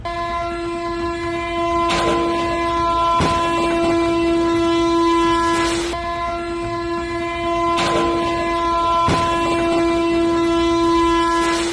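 The Gonda–Asansol Express rumbles steadily past at close range near a level crossing, its horn sounding a long sustained chord throughout, with periodic clanks from the wheels.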